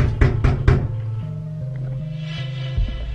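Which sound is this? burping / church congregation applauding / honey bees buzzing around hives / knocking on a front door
knocking on a front door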